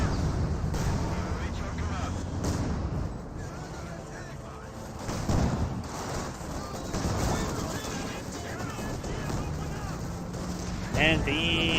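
Soviet Land Mattress rocket artillery fires in Company of Heroes 2, a string of booming launches and impacts layered with other battle noise while a commentator talks over it throughout.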